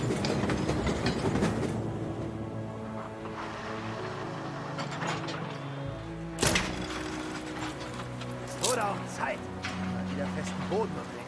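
Mechanical clanking and ratcheting from a train running on a railway in the Anno 1800 strategy game, a steady loud layer of gear and wheel noise with a sharp knock partway through, under talk.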